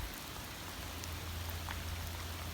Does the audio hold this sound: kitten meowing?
no